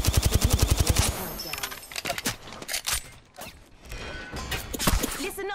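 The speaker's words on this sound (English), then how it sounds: "Listen up, I'm getting shot at." Automatic gunfire in Apex Legends rattles in a fast, loud burst at the start, followed by scattered shots, clanks and game effects.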